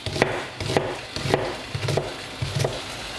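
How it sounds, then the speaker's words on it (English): A knife chopping an onion on a board, about five evenly spaced, crisp taps, moderately loud and close, with no talking. "So, let's cut up the onion."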